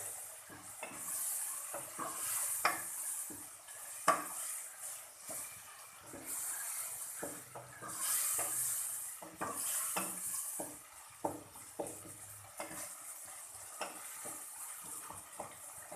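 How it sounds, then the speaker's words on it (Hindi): Mince and tomatoes fry in a pan with a soft steady sizzle, while a utensil stirs and scrapes against the pan in repeated clinks and knocks, close and fairly quiet. "उसके बाद इसमें टमाटर के साथ इसे हम फ्राई करेंगे"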